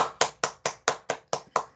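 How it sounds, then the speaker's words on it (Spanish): One person in an online university class on operating systems claps for the teacher, about eight crisp, evenly spaced hand claps in a steady rhythm, close and clear against an otherwise quiet background with no talking. "yo creo que el profesor Jesse se merece un aplauso."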